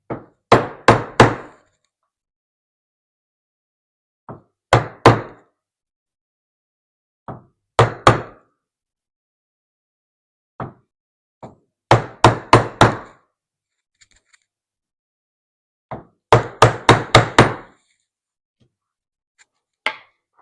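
Hammer striking a chisel to cut a mortise in wood for a floating shelf bracket, sharp close knocks in quick clusters of two to five blows separated by pauses.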